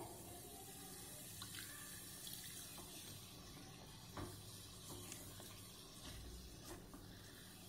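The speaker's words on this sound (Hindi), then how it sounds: "थोड़ा सा पानी और मिक्स कर रही हूं मैं इसमें" Water pours and splashes softly into a Hyderabadi baghara baingan (stuffed eggplant) masala, faint and steady, with light stirring clinks in the background.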